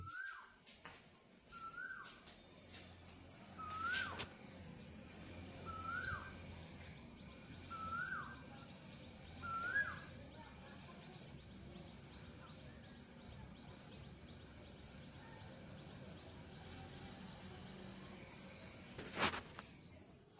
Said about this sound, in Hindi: यहाँ विंडो के पास ना इतनी अच्छी आवाज़ आती है कोयल की।